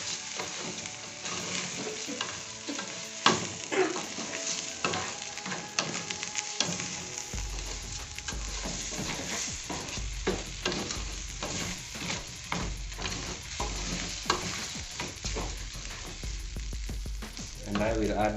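Rice being stir-fried in hot oil for vegetable fried rice, a steady sizzle with repeated scraping and stirring strokes against the pan, growing fuller partway through.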